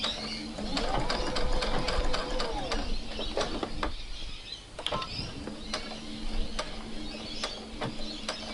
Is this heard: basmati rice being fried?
no